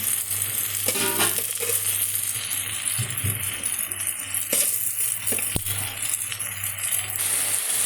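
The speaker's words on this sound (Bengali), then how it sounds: "এবার এটা আমি চিংড়ি মাছ অ্যাড করছি" Prawns frying in a pan of spiced masala, a constant close sizzle with rattling, scraping stirs and a few sharp clinks of the ladle against the pan, no voices.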